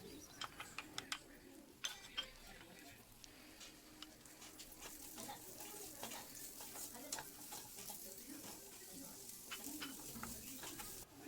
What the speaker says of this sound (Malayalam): അപ്പോൾ നമ്മുടെ പാനിൽ ഇതെല്ലാം കൂടി ഇട്ടിട്ട് ഒന്ന് ചൂടാക്കിയിട്ടെടുക്കണം